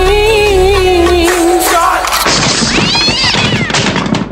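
A cat leaps onto a man's back while he does push-ups; loud meowing and yowling cries rise over a sudden crash-like thud midway, with sustained chaotic noise afterward and no one speaking.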